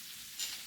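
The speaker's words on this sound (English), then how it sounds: "it's right here, frying." Fried chicken frying in a covered pan, a steady bright sizzle with a brief louder crackle midway, heard alone.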